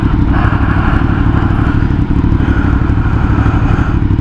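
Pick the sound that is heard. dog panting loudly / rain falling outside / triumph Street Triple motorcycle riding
triumph Street Triple motorcycle riding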